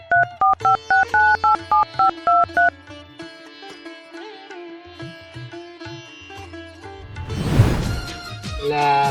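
A telephone keypad beeps out a quick run of about ten evenly spaced dialing tones, followed by softer mixed tones and a brief burst of noise near the end.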